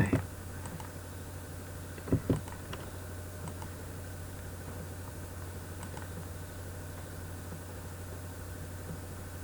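A computer mouse clicks a few times while working in SolidWorks, giving sharp, close clicks at the start and a quick double click shortly after, over a steady low electrical hum.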